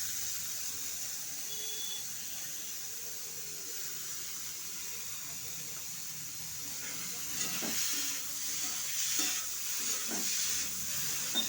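Banana stem dropped into a pan of already-fried potatoes sets off a steady, moderate sizzle, with a few louder stirring scrapes and hissing bursts toward the end; no one speaks.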